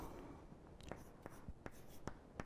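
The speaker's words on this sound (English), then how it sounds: "let me write the total thing" Chalk or marker strokes on a board while writing out a basis transformation, a series of short sharp scratchy taps spaced irregularly over a quiet room hiss.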